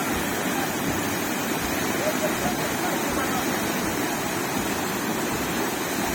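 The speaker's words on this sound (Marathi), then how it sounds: "हे बघा पाणी किती जोरात पडाले" A powerful waterfall near Radhanagari dam pours down with a dense, constant, roaring rush of water, close and loud from start to finish.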